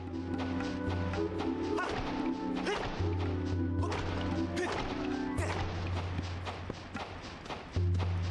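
Digging at a dig spot in Zelda: Skyward Sword sounds like a series of dull thuds and scraping hits in an uneven rhythm over sustained game music tones.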